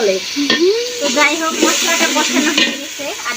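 Masala spices sizzle in a frying pan while being stirred, a steady close frying hiss with scraping stir strokes throughout, and a voice chatting faintly over it.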